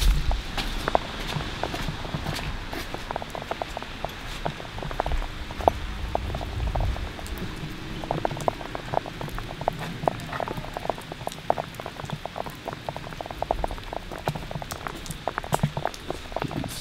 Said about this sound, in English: Like I said, it's raining.